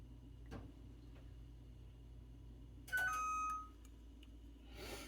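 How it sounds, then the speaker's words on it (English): A stove timer signals that pancake batter is ready for the oven: two short electronic beeps near the middle, faint against a quiet kitchen with a few soft clicks and taps. "that was the alarm on the stove letting me know it's ready to go into the oven"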